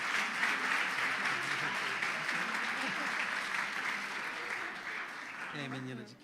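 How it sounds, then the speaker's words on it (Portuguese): Church congregation applauding during a service, a steady, moderately loud wash of clapping that carries on for several seconds until a voice starts speaking near the end. "e vamos aplaudir Jesus"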